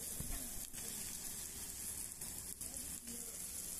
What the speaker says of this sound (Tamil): இப்போ வந்து அது எல்லாத்தையும் ஒன்றா நல்லா கிளறி விட்டு எல்லா பக்கமும் ஒரே மாதிரி வேகிற மாதிரி செஞ்சுட்டு